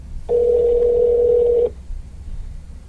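A phone call placed through a BÖHM Impact Plus speakerphone sounds one steady, loud dial tone that lasts about a second and a half, then cuts off abruptly, leaving a quiet low background hum.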